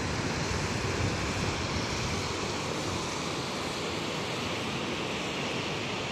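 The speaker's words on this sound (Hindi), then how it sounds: "और ये वहां पे झरना गिर रहा है।" Water pours down at Kevti falls as a waterfall, a constant broad rushing roar that holds steady and loud the whole time, with no talk over it.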